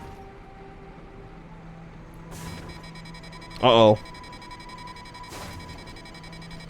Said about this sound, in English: the constant beeping of my tank, signaling its death